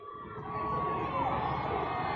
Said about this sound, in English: Crowd going crazy here